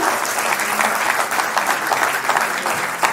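An audience at a live teacher awards celebration claps steadily in a dense, continuous round that holds even and loud from start to finish.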